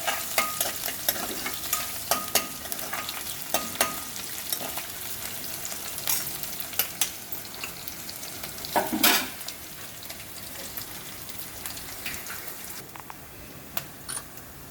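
Tempering of dried red chillies, garlic and roasted gram frying in a pan for a puffed rice snack, with a steady close sizzle, bursts of crackling and a few stirring scrapes throughout, no talking.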